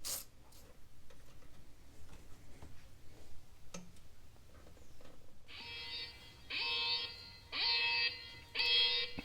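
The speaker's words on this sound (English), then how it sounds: "what you're hearing here is car lock going off." Scattered clicks give way to a Chrysler 300S car security alarm going off, four loud repeated electronic beeping bursts with short gaps, harsh and nearby.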